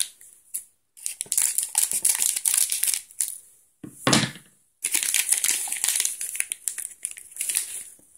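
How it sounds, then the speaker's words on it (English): A plastic blind bag crinkles and crunches as scissors snip through it in several bursts separated by short pauses, close up. "Let's take the scissors and cut it open."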